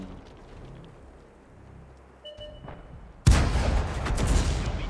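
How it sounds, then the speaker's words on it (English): Tank cannon fire in World of Tanks, a quiet battlefield ambience broken by a sudden loud blast that leaves a heavy rumbling roar. "they're blind firing. Blind firing the position"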